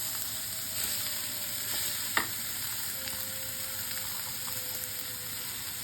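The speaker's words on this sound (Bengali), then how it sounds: "ওই ভাপটাকে এর সঙ্গে ভাজা করব" Rice with radish greens fries in a pan, giving a steady soft sizzle with occasional stirring scrapes and one sharp clink of a utensil, moderately close and without voices.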